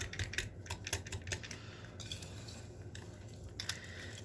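Muffin batter for mini chocolate chip muffins stirred by hand in a bowl, with repeated quick clicky scrapes and taps of a utensil against the bowl, close and fairly steady, no talking.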